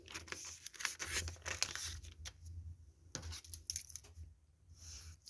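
Paper is cut and handled at close range for a Christmas envelope craft, with soft irregular snips, rustles and crinkles that come in short bursts and are fairly quiet.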